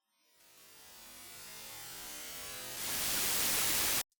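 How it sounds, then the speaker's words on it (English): White noise, time-stretched in Bitwig with Elastique Pro, fades in as a rough, grainy hiss, jumps to a louder and brighter wash near the end, then cuts off abruptly. "So, our beautiful white noise"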